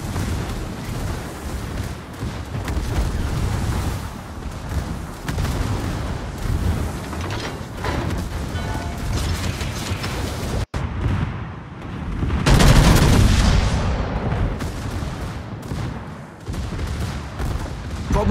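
Naval guns boom through a sea battle in a warship game, heavy continuous rumbling fire with a sharp blast near the middle and a bigger surge of explosions afterward.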